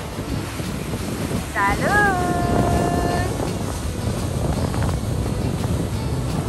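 A boat passing at sea, heard as a steady wash of water and wind buffeting the microphone, with a brief whistle-like tone partway through and people talking and exclaiming nearby.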